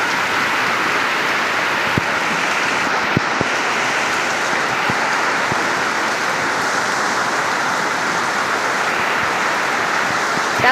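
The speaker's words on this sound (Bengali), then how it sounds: "ভীষণ জোর বৃষ্টি হচ্ছে" Heavy rain pours down in a dense, steady roar, loud and close throughout, with occasional sharper drops striking a surface nearby and no voices.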